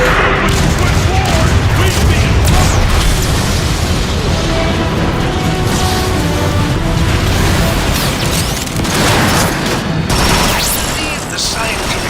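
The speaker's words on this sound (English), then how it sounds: "there's an artillery strike on that dropship" Artillery strike explosions in the video game Transformers: Fall of Cybertron, loud dense booms and bursts piling into a sustained roar of blasts and mechanical clatter, with voices briefly heard in the mix.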